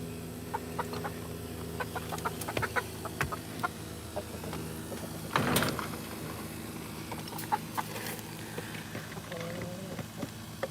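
Chickens cluck and scratch close by on a farm, with short overlapping calls scattered across the clip, under steady background hum and a brief louder scuffle midway; people talk nearby.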